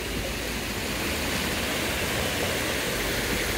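Continuous rushing, splashing water from a backyard jacuzzi water feature, steady and fairly close, with no voices.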